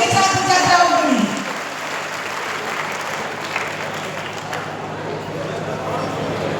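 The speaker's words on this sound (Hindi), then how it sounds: "तालियां जोरदार बजाइए एक बार हमारे सभी छात्र छात्राओं के लिए।" An audience at a student award ceremony in Nawadih, attended by the state governor, breaks into loud sustained clapping; voices are heard over the start, then the applause carries on alone.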